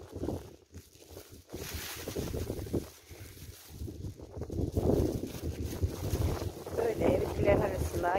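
Strong wind by the sea buffets the microphone with low rumbling gusts, while a person talks underneath.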